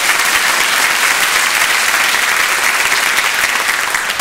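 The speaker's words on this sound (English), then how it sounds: "just a quick round of applause for my wife who's come joining me tonight" An audience at an evening talk by a journalist applauds loudly and evenly, a dense wash of clapping from many hands that holds steady with no voices over it.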